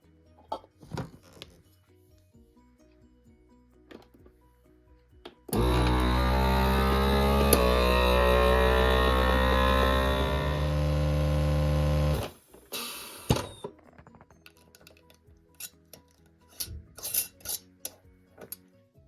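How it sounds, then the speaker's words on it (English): A vacuum sealer motor runs loudly and steadily for about seven seconds while sealing a bag of seasoned rice mix, then cuts off, with quiet handling clicks and rustles before and after. "Now I'm just going to vacuum seal like I did the other time."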